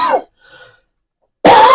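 Two coughs from a person, one loud and close at the very start and another loud one after a quiet gap, with a faint throat sound between them.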